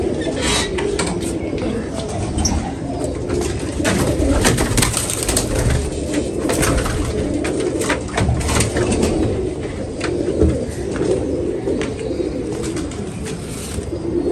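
Pigeons coo softly and repeatedly in a continuous low murmur, with occasional rustles and bird noises nearby.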